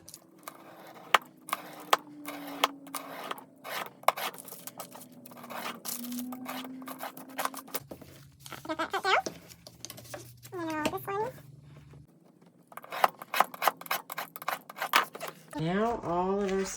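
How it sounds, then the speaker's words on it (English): Paper signature pages for a vintage Christmas journal being cut, several sharp slicing and tearing snips spread through a quiet room, with a faint voice humming or murmuring in the middle. "We are going to cut here and right here."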